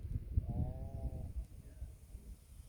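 A sheep bleats once in a sheep yard, a short, faint, wavering call early on over low rustling and ambient noise.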